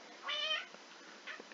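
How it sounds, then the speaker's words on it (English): A pet cat meows indoors, one clear drawn-out meow followed a moment later by a shorter, fainter one, close to the microphone over a quiet background hiss. "You hear my cat is making sound."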